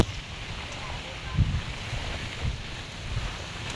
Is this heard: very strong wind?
yes